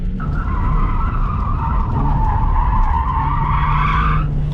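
Loud, continuous tire squeal from a stock car drifting at stock steering angle, a high screech held over the engine's roar for several seconds before stopping abruptly.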